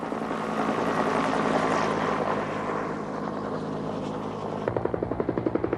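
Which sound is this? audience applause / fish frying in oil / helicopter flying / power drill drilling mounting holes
helicopter flying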